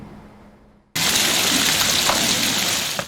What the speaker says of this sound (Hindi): दिन रात बरसात, मानसून का धुआंधार स्पेल।